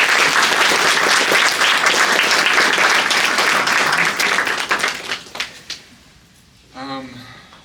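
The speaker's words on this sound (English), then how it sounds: "So maybe a round of applause for the fellows who just said something." An audience at a collective's first art show applauds in a dense burst of clapping for about five seconds, then it thins and fades before a voice speaks briefly.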